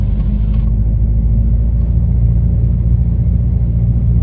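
Steady, loud engine drone from a Cessna 172N during a run-up to 1700 RPM, a continuous low rumble that holds even throughout with no voices over it.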